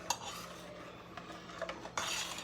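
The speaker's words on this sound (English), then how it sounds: "you still gotta stir it because you got it on high" A spoon scrapes and clinks against a pot as macaroni for macaroni and cheese is stirred over high heat, faint and close, with a few sharper knocks over a low background hiss.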